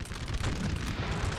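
Artillery fire in Napoleon: Total War, a dense, continuous rumble of booms and bursts with no single shot standing out, loud and sustained throughout.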